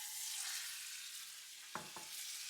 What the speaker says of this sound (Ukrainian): На розігріту сковорідку додаю олії і виставляю смажитися фарш.